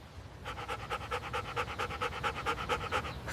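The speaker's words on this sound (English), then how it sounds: "That is our dog." Rapid, steady dog panting from an animated cartoon, a rhythmic run of quick breaths that starts after a brief pause and carries on fairly loud and close.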